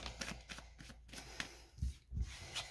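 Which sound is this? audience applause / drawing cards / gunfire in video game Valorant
drawing cards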